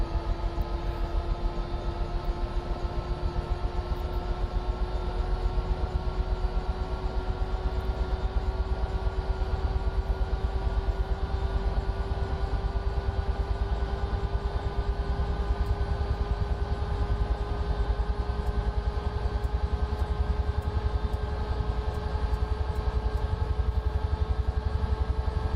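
Aircraft engine in Microsoft Flight Simulator 2024 spooling up as the throttle is eased forward slowly, a steady droning hum whose tone rises gradually over about 25 seconds at constant loudness.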